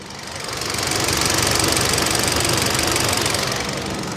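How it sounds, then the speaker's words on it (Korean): A 2019 Kia K3 engine runs steadily up close with the hood open, a dense rough knocking rumble with a rapid mechanical ticking throughout, no voices. "엔진 소리 들려드리고 제가 본넷을 열었는데요"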